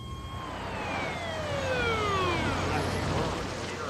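Ambulance siren arriving at an early-morning rescue scene in Las Vegas, a wailing, sweeping tone that grows steadily louder as the vehicle approaches over road noise.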